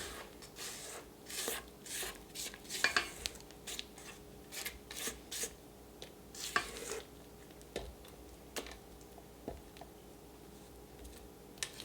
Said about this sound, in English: Okay, so now we want to scrape down our bowl.